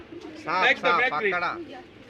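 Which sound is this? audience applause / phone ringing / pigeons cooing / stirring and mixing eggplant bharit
pigeons cooing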